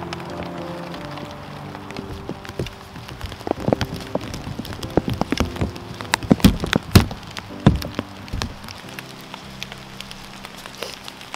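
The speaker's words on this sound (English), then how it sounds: "Still raining." Steady light rain falls during a Christmas Eve hike, with scattered close drips and irregular pattering that cluster and grow denser midway before easing off.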